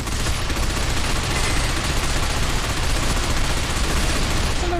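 Dense, continuous gunfire fills the Binary Domain third-person shooter game, a loud unbroken barrage of rapid shots with no pauses.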